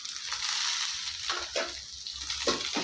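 Sliced onion with a handful of fresh coriander and mint sautéing in a pan for a chicken gravy, a close, bright hissing sizzle broken by a few soft scraping stirs.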